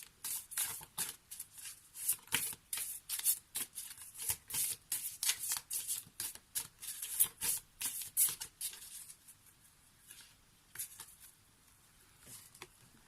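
Tarot cards being shuffled by hand, a rapid series of crisp riffling flutters and slaps, close and clear, thinning toward the end as cards are drawn.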